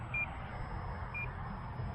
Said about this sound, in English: Where's that beeping coming?